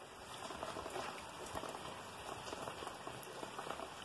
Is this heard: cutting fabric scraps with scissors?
no